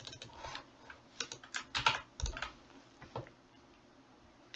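Password typed on a computer keyboard, a short burst of soft, close key clicks in an uneven rhythm, quiet and alone over a few seconds.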